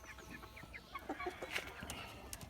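Soft clucking and short calls from a few young Leghorn chickens, quiet and somewhat distant, with scattered scratchy noises in the background.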